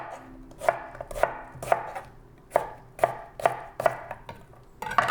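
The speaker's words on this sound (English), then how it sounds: "So I'm just going to take my knife and just roughly chop." A knife roughly chops vegetables for winter squash soup on a board, about a dozen crisp, close thuds in a loose irregular rhythm, with no talking.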